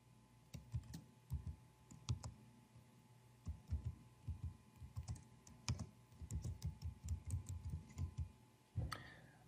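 Quick, uneven bursts of clicking keystrokes on a computer keyboard, soft and close, with short pauses between runs of typing and no talking.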